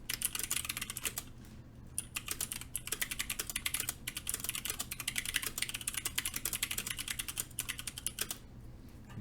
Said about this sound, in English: this is what a clicky switch sounds like